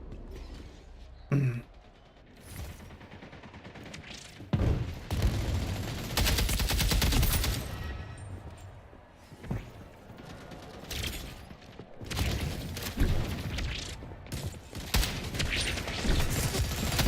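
Gunfire in the shooter game Splitgate 2, with long stretches of dense automatic fire and scattered single shots coming in bursts, loud and close, mixed with mechanical game effects and no speech.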